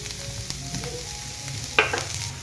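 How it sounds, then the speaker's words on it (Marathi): Chopped onion sizzles in hot oil in a pan, a constant crackling hiss with a few soft stirring knocks and one sharper clatter near the end, with no talking. "कांदा आता आपण भाजून,"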